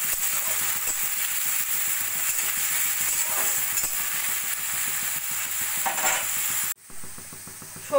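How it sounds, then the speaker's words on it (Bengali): Diced potato, sweet potato and carrot fry in a wok with a steady, close sizzle and repeated stirring scrapes, ending abruptly in quieter sizzling. "এবার এই সবজিগুলো একটু ভাজা ভাজা করে নেব।"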